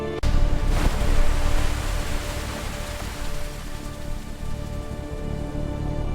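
Steady rain pours down in a dense, continuous hiss, loud and close, with no voices.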